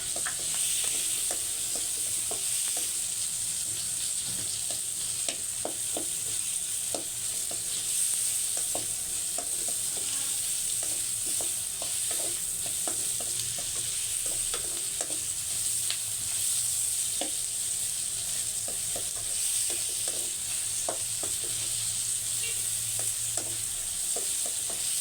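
Boneless bangus fish steak sizzles and crackles in a frying pan, a loud, continuous spitting hiss broken by scattered pops and stirring scrapes, with no voices.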